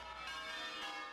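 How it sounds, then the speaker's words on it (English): Church bells ring across a city, a dense, sustained wash of overlapping tones with no gaps, steady and moderately loud throughout. "Bells across the city rang for 9 minutes, one for each victim."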